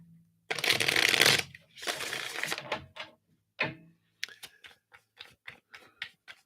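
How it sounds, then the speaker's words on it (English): A deck of tarot cards is riffled and shuffled up close, with two long rustling bursts followed by a string of quick, crisp card snaps and taps; no talking. "Let's try shuffling that again."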